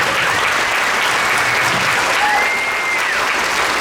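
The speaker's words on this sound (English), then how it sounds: "Round of applause." Loud sustained applause from an audience honoring standing honor band students at a combined band concert, an even wash of clapping filling the whole stretch.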